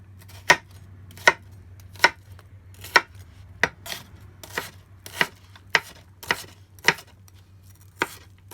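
A knife slices through vegetable segments on a cutting board, about a dozen crisp, evenly spaced chops close up with quiet pauses between them.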